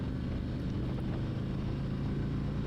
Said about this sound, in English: You can hear the wind because a stock windshield is non-adjustable.